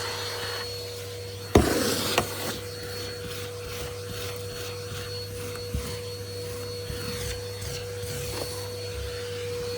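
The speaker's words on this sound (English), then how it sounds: "Let's see if we can vacuum up the dead flies." A vacuum cleaner hums steadily close by on carpet, with a loud knock early on and occasional scraping and rattling bumps as it moves around.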